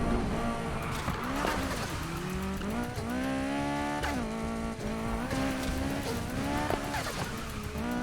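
McLaren 570S Spyder drifting in Need for Speed Heat, its engine revving and shifting pitch while tires squeal and skid almost continuously, loud and close, with repeated rises and falls in engine note.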